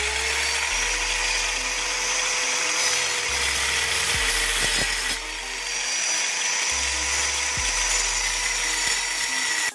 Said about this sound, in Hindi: हमने ग्राइंडर से इसमें इस तरह का एक कट बना दिया है, नाली टाइप का